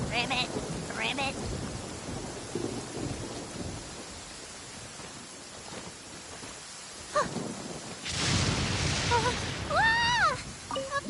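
Rain patters steadily in a video game with low thunder rumbling, while frog-like croaks and chirpy game sounds pop up, a loud burst of noise near the end.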